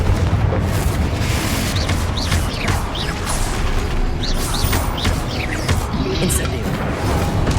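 The Confringo explosion spell in the video game Hogwarts Legacy sets off repeated booming blasts and crashing impacts over busy combat noise, loud and continuous throughout with no voices.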